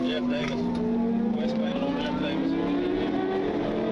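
Suzuki GSXR motorcycle accelerating during a police chase, its engine note rising in pitch with harmonic sweeps, steady and fairly loud over a noisy background with someone talking.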